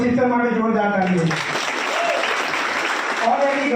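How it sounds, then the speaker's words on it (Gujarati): An audience breaks into loud, dense applause that swells for a couple of seconds, with a voice speaking just before it and again as the clapping continues. "મિસ્ટર શેજાર સર અને તોશિફ સર માટે જોરદાર તાળીઓ"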